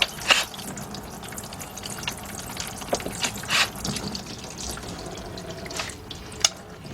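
Transmission fluid drains from a Chrysler Sebring into a pan as a steady trickling and splashing with occasional louder drips, close by and continuous, with no talking.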